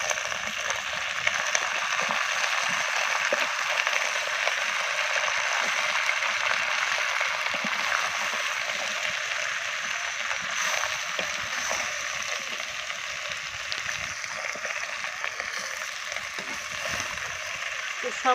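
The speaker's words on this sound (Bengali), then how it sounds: "এবার আমি নাড়তে থাকবো একটু।" Mixed vegetable curry is stirred in a pan, a continuous soft sizzle and wet scraping with intermittent clicks of the spoon, steady and close throughout.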